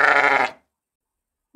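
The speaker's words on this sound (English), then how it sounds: "A sheep baas." A single sheep gives one loud, close, quavering baa that cuts off after about half a second, followed by silence and the faint start of another sound at the very end.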